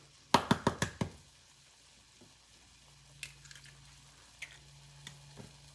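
Eggs cracked and dropped into a Pampered Chef ceramic egg cooker, a quick cluster of sharp knocks and taps near the start followed by a few faint clicks, close and otherwise quiet.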